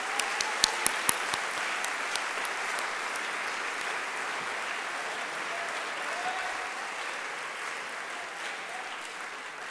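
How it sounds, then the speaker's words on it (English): High school event audience applauding performers, a sustained broad wash of clapping with a few sharp close claps at the start, steady and moderately loud. "Let's give one more round of applause to all of our wonderful performers"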